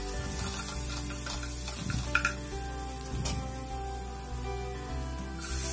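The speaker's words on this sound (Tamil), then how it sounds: "வெங்காயத்தை நல்லா வதக்கிட்டு ப்ரௌன் அப்புறம் பட்டை வாசனை போகிற வரையும் நல்லா வதக்கிட்டு" Onions sautéing in a pan with cinnamon in a home kitchen, a steady close sizzle running throughout with faint scraping and stirring clicks.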